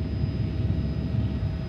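A police helicopter flies overhead during a car chase in Los Angeles, its engine and rotor a steady, loud low drone with no talk.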